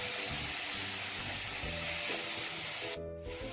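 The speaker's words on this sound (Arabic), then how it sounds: "معلقتين كبار من الزيت، بعد ما حطينا البصل بنبدأ نبهره" Chopped onion frying in two large spoonfuls of oil in a pan, a steady close hiss and crackle running continuously with soft scraping stirs underneath.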